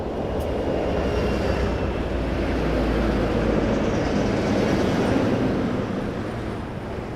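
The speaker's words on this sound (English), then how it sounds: "That is a minty fresh Dash 8." Dash 8 turboprop airliner at Toronto Pearson Airport, a steady, loud broadband engine and propeller roar that swells slightly mid-way and holds throughout, with no one speaking.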